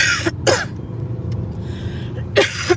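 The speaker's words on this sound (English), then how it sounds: "Sorry, I'm coughing." Close, harsh coughs in a car driving along Great Yarmouth harbour and seafront: two quick ones in succession, a pause with low background rumble, then another cough.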